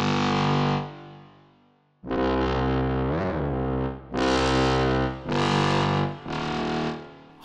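A pitched-down orchestra runs through a distortion effect, heavy, buzzy sustained chords in separate bursts with short gaps between them, loud and gritty with no talking.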